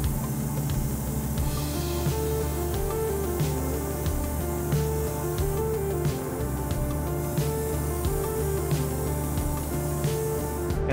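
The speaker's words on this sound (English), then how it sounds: "I'm gonna spray in here" Steady, continuous hiss of an aerosol spray can running for several seconds, fairly close, with a constant hum underneath and no talking.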